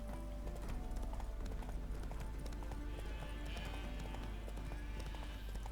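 A horse gallops in The Witcher 3: Hearts of Stone, with rapid rhythmic hoofbeats clopping steadily throughout over a low droning game soundscape.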